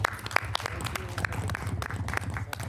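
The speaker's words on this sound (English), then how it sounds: "Big round of applause." Applause from a county commissioners' board meeting audience, a scattered patter of clapping with a low steady hum beneath it and some voices mixed in.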